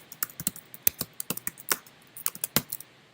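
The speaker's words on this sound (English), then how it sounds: "I just type it twice." Quick keystrokes on a computer keyboard, a run of close, crisp clicks at an uneven rhythm over about three seconds, with no talking.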